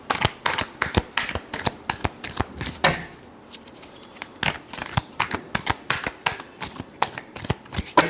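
Tarot cards shuffled up close in quick, crisp riffling bursts that repeat rhythmically, loud and clear and mostly free of speech.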